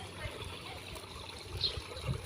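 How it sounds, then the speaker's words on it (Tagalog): A small water pump feeds a backyard tilapia pond with a continuous, gentle trickle and light splashing, heard close and steady with no clear talking. "Ayun yung umaagas-agas na tubig yan."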